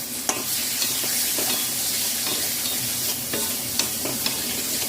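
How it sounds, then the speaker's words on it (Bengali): Cauliflower and potato curry being stirred in a pan, with a constant loud frying hiss and a few light, scattered spoon taps and scrapes against the pan. "একটু নাড়াচাড়া করে নিলাম"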